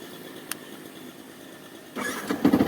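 After a quiet stretch and a single sharp click, a motorbike engine catches and starts up close by, rumbling loudly and unevenly in the last second, with no one speaking.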